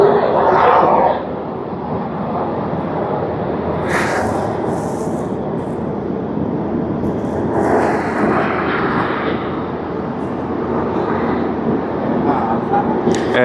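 An ANA airliner at Tokyo Haneda Airport in heavy snow produces a broad, sustained jet roar. The rumble is loud and fairly distant and swells and fades gently over several seconds.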